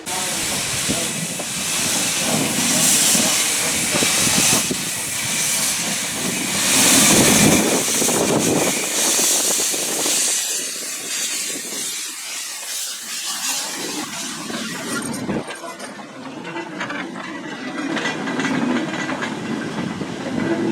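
A steam locomotive pulls away from the Foxfield Railway toward Dilhorne Park with loud hissing steam and chuffing, wheels clacking on the rails as it moves off.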